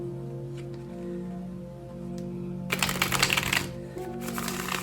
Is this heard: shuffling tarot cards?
yes